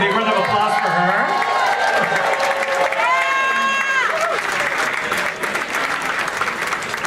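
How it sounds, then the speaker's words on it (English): A crowd gives an elected official a loud round of applause with cheering at a gay-rights event in Florida, dense clapping mixed with shouts and voices over it. "Big round of applause for her."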